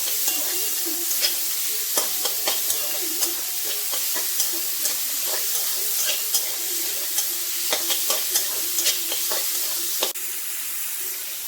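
Salted, vinegar-marinated chicken pieces for momo soup fry in a pan with a constant sizzle, as a spatula scrapes and taps at a regular pace close by; no one speaks.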